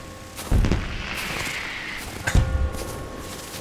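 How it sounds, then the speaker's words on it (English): Fireworks go off in the video game Crimson Snow: two separate booming bursts, each followed by a crackling fizz, fairly loud over a steady background hum. "she's shooting fireworks off"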